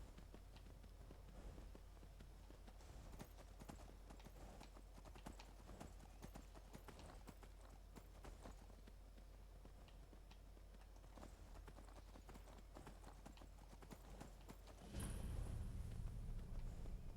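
Horse hooves clip-clop steadily in Skyrim, a continuous run of close, loud hoofbeats over game background sound, with a louder burst of noise near the end.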